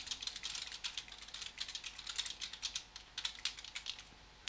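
Quiet, rapid keystrokes on a computer keyboard clatter in an uneven, continuous stream, close but soft, with no voices.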